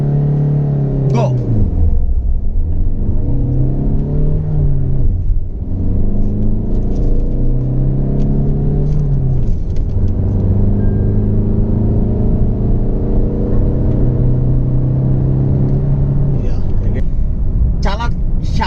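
A Tata Altroz diesel car accelerates from a standstill, its engine note climbing through several gear changes in a steady, droning run, with a person talking over it.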